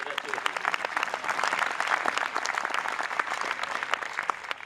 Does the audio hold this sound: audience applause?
yes